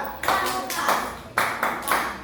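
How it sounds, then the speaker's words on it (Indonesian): A class of young children performing tepuk pramuka, the Indonesian scout clap, in a school classroom: rhythmic bursts of group clapping, close and fairly loud, with children's voices running underneath. "tepuk pramuka"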